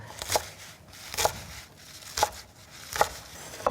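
A knife chops mustard greens (gat) for kimchi on a cutting board, making five crisp, close knocks spaced about a second apart with quiet gaps between them.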